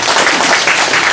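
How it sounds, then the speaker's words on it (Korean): Audience applause at an award ceremony for an essay contest, a dense burst of hand clapping filling the short moment, fairly loud and close. "오늘 우리 다 함께 힘을 모아서 박수 한번"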